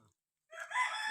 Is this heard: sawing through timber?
no